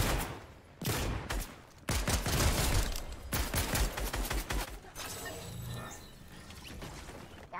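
Fortnite gameplay with bursts of heavy gunfire, loud shotgun blasts and rapid volleys in clusters separated by brief gaps, then quieter mechanical clatter and game effects.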